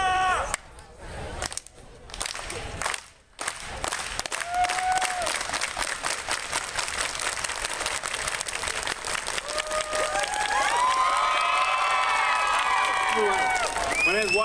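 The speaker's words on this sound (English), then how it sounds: "The unity clap we just did was created when our Chicana, Chicano, and Filipino brothers and sisters were out working in the fields" Crowd at an SDSU walkout rally doing a rhythmic unity clap, with sparse claps speeding up into rapid, dense applause and cheering, followed by whoops and shouts, loud and close in an open setting.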